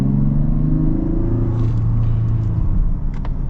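A 2024 Mazda CX-90 base model SUV pulls away with a steady, loud engine rumble and rising tone, heard from inside the cabin, continuous with no talking.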